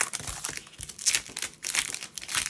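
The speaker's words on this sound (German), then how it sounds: "Ich kann die mal eben öffnen." Crinkly clear plastic packaging of craft stamps is opened up close, a busy run of sharp crackling and crumpling bursts with brief pauses, loud and alone.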